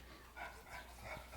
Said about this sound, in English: My dogs are all here going crazy.